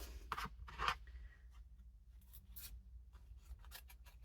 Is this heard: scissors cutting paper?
yes